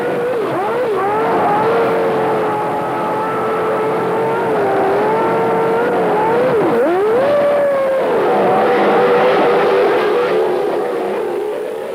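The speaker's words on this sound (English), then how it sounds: "Hill comes in for one of many tyre stops and gets going cleanly." A 1993 Williams Formula 1 car pulling away from a pit stop on a wet, treacherous track, its high engine whine loud and sustained, rising and dipping with gear changes, heard alone without talk.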